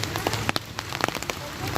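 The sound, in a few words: rain falling in Nainital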